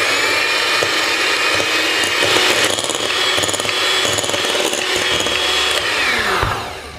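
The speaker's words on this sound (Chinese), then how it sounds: "然后把打蛋器开启高速，" Electric egg beater on high speed whipping 250 g of light cream in a large bowl, a steady dense whirring buzz with rattling beaters, continuous and close for several seconds before winding down at the end.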